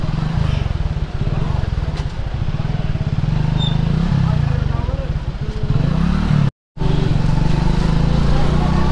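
Motorbike engine droning steadily on a Himalayan mountain road near Karnaprayag, loud and close with wind buffeting throughout, a brief dropout near the end, and voices talking faintly under the engine noise.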